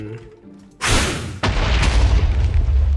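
Two loud booming explosions in Minecraft in quick succession, the second followed by a long, rumbling roar that doesn't fade.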